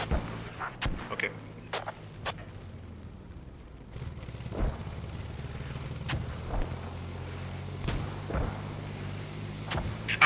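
Mortar fire in a military video game: a series of sharp distant booms and thuds scattered through the clip over steady engine rumble, with no voices.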